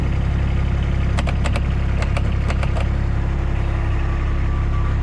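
A 2010 Cushman Truckster diesel utility vehicle with a dump body idles with a steady, loud, low rumble. A few brief rapid clicks come in the middle.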